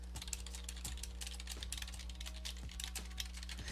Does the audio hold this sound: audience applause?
no